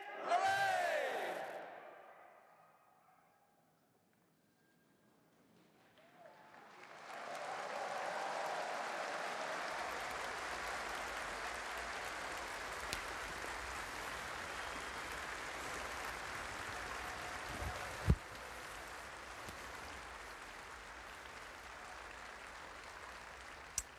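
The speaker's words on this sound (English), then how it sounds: "a huge round of applause from the crowd there watching the second proclamation of the day" A large crowd cheers and applauds at the Royal Exchange proclamation, a loud, sustained wash of clapping and shouts that swells after a quieter pause and carries on steadily with scattered whoops.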